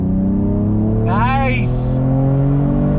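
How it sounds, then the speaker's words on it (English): A 2022 Mercedes-AMG E53 in third gear accelerates with a loud, steady engine drone close up, and a voice is heard briefly in the middle. "We're gonna drop it down to third gear, get a little crackle, little pop."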